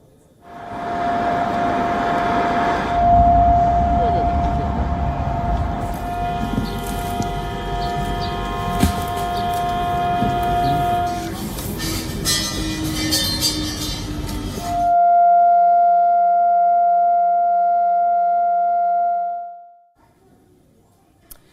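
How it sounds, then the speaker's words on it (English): A long, steady air-raid siren tone wails across China over a noisy background, rising louder near the end before fading away. "sirens wailed out across the rest of China to remind people about the ceremony"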